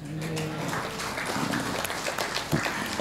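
An audience at an Islamic sermon in Semarang applauds, a steady spread of many hands clapping in a large crowd, moderately loud and continuing throughout with faint voices beneath.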